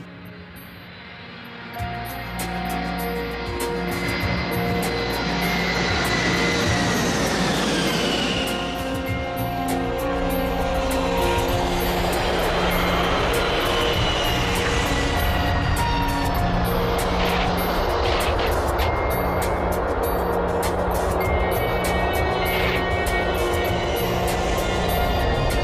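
Airliner on its landing roll down runway 30, a loud sustained engine roar with rising whine and broadband rumble that swells and holds steady for the whole span, no talk.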